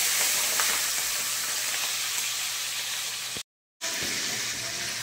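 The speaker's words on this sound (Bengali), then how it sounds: "তেল গরম হয়ে গেছে, আমি কড়াতে সাদা তেল দিয়েছি। এবার প্রথমেই চিংড়ি মাছগুলো দিয়ে দিচ্ছি।" Prawns frying in hot white oil in a wok, a steady loud sizzle and hiss throughout, briefly cut by a moment of silence before the crackling resumes.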